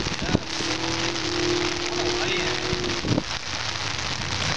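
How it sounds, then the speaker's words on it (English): Rain pours onto a small puddle outdoors in July, a steady dense hiss of drops close to the microphone, with a voice briefly humming and talking over it. "It's raining, it's pouring"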